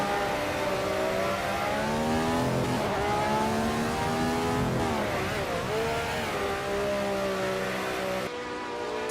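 Race car engines scream through a race, a loud continuous whine rising and falling in pitch as the cars accelerate and shift, heard up close with no voices over it.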